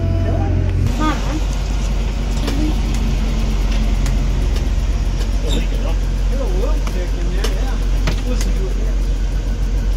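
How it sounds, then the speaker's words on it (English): A car engine running at idle, a steady loud low rumble close by throughout, with people talking over it. "You want me to rev it up, or is it good?"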